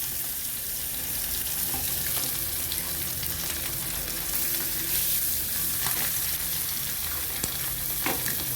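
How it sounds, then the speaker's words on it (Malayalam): Sardines, coated in a crushed spice paste, fry vigorously in oil for Kerala sardine fry, a close, constant sizzle with occasional sharper pops and crackles. "അടിപൊളിയായിട്ട് നമുക്ക് വറുത്തെടുക്കാം"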